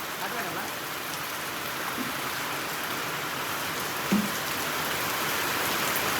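Steady rain falls with a broad, even hiss and pattering on nearby surfaces, continuous and fairly loud. A single brief thud cuts through partway along.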